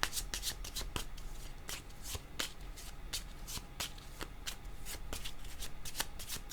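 Tarot cards shuffled by hand in a rapid series of crisp riffling snaps and slaps, quiet but distinct, repeating steadily with no one talking.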